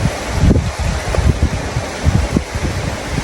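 Wind blowing outdoors, gusty rustling and buffeting that rises and falls across the moment, loud and close as it hits the microphone, with no talking.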